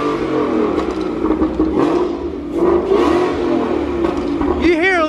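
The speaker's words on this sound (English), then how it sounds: "Really loud with the squat exhaust." A built 2019 Ford Mustang GT with a Corsa exhaust revs close by, its loud engine surging and falling in a few throttle blips, with a brief whine near the end and voices around it.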